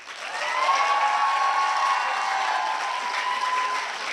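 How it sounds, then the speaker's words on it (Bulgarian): A crowd at a city Olympiad event in Ruse breaks into applause for a guest, a dense, sustained roar of clapping that swells quickly and holds steady before easing slightly. "Аплодисменти за гениалния Васко Иванов Декстър"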